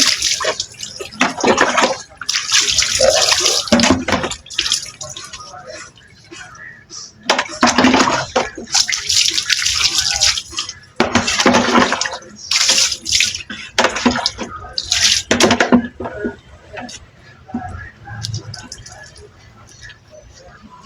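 Water gushes in loud bursts while a pet is bathed with shampoo, with splashing pauses between spells of running water. A person talks in stretches throughout.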